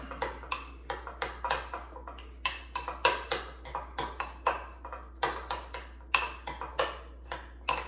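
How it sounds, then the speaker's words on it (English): A spoon stirring oats with cinnamon in a bowl, rapid repeated clinks and taps against the dish in quick irregular bursts, close and crisp over a low steady hum. "So let me stir that up."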